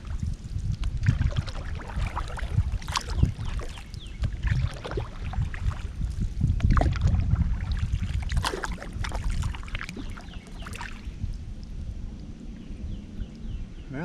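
A kayak paddled hard on the Gasconade River gives close, irregular paddle splashes and water swishes with occasional knocks against the hull, and no talking.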